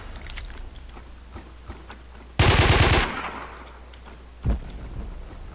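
A single loud burst of rapid AUG rifle fire in the shooter game Warmode, lasting under a second over a steady low background hum, followed later by one softer thump.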